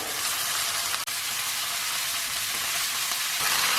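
Cabbage going into a hot pan for a vegan Indian cabbage and chickpea curry, a steady close sizzle and frying hiss throughout with a brief dropout near the start.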